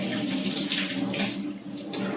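Running water pours steadily over rice being washed, a continuous close splashing flow with no voices.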